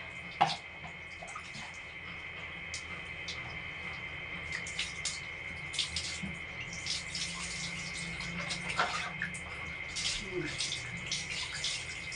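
Tap water runs steadily into a tub while a Yorkie dog is being bathed and shampooed, with a few faint splashes and knocks on top and voices talking nearby.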